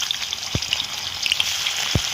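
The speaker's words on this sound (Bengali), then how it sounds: "মাছগুলো ভেজে নেব।" Khoira fish fry in hot oil in a karahi over a stove, giving a steady close sizzle with scattered crackles and pops and no talking.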